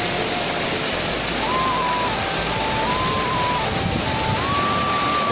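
A mountain stream on the Roopkund trek rushes steadily while trekkers fill their water bottles at its edge, a loud, constant wash of water with a thin steady tone running through it.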